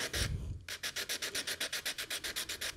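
Fingertips rubbing back and forth across a Vintaj metal filigree link to wear off its patina, a fast, even series of about fifteen close, dry scrubbing strokes after a brief opening scuff; no voice.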